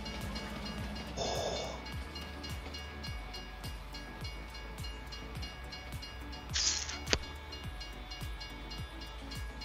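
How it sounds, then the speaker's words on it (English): In Farming Simulator 19, a train rumbles past with a rhythmic clatter of wheels over rail joints, and two short horn blasts stand out above the steady rolling noise. "There was a train coming."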